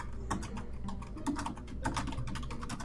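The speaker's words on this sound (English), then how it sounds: "I can hear you typing, Dave." Rapid tapping on a computer keyboard, keys clicking in quick uneven bursts, close and fairly quiet.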